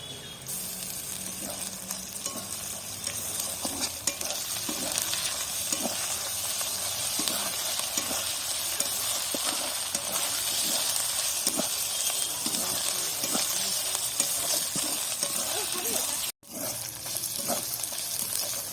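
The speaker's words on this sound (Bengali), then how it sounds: "আদা রসুনটা ভাজা ভাজা হয়ে গেছে," Ginger and garlic paste fry in a pan for a chicken curry, a constant hissing sizzle overlaid with regular, repeated stirring strokes across the pan, briefly cutting out near the end.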